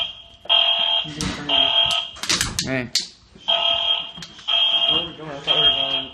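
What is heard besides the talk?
building fire alarm ringing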